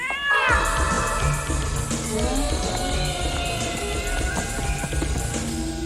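A cat meows in a busy, noisy scene, with several drawn-out wavering cries over a dense background of crowd-like commotion.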